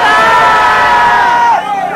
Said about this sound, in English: I want everybody to shout out where they're from.